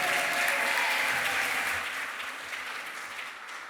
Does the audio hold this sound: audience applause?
yes